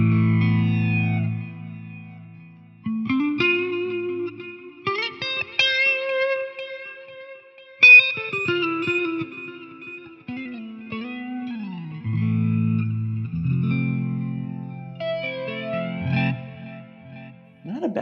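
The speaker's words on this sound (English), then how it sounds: "we're adding in a flange and we're adding in a delay" Electric guitar on a Quad Cortex with flanger and delay effects plays a winding single-note melody and some chords, the notes sweeping and repeating in echoes throughout, steady and fairly loud with no talking.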